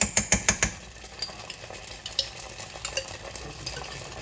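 Ground beef frying in a pan as tablespoons of sofrito go in, sharp clacks of a spoon against the pan's edge at first, then a steady close sizzle with occasional scrapes and taps.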